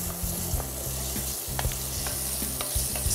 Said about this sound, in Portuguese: podemos então adicionar a cenoura. Cenoura, mais ou menos uma a duas cenouras, depende do tamanho, também aos cubos